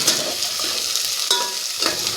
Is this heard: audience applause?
no